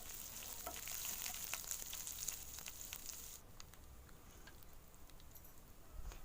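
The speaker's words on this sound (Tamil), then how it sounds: "இஞ்சி பூண்டு பேஸ்ட் பச்சை வாசம் போகிற அளவு வதக்கி விடுங்க." Ginger garlic paste sautés in oil for an egg recipe, giving a steady close sizzle with faint ticking stirs that softens partway through, with no voices.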